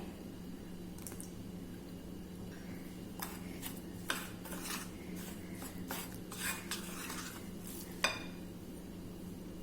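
A spoon works through a thick semolina and curd batter in a bowl, with irregular soft squelches and scraping clicks, a couple of sharper taps, over a low steady hum.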